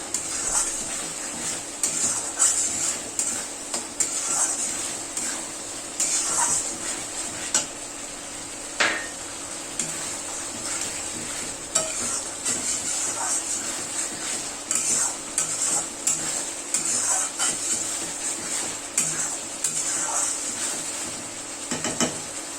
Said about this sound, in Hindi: मसाला को हम अच्छा से भून लेंगे।